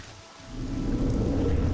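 Steady rain in the Morrowind video game, a soft hiss that swells after a quiet first half-second and then holds evenly without talk.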